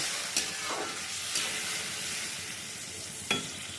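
Potatoes fry in a pan for a Bengali fish curry, with warm water just added. A steady, even sizzle runs throughout, and a few brief stirring scrapes rise above it.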